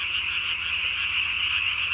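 Tree frogs croak at night in a dense, unbroken chorus, a loud, high rasping trill that carries steadily from start to finish with no voices.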